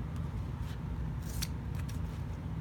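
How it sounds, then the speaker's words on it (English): Scissors snipping while making a bow, a few quick crisp cuts and short slicing bursts heard close over a low steady background hum. "So this is perfect where the scissors can come in."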